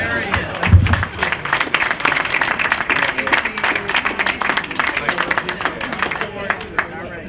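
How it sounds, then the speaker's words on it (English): Steady applause from a crowd at a Chamber of Commerce luncheon, dense clapping throughout, fairly loud and continuous, with some voices mixed in. "how about a wonderful round of applause?"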